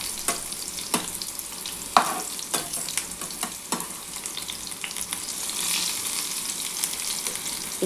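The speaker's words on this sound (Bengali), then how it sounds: "যে তেলটা থাকবে সেই তেলের মধ্যে আমি কালো জিরা আর কাঁচা লঙ্কাটা দিয়ে দেবো।" Black cumin seeds and green chili frying in leftover oil after eggplant, giving a steady close sizzle with sharp pops and spatters scattered throughout, no talking.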